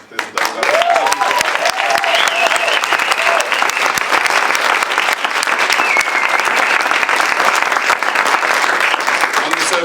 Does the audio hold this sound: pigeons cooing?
no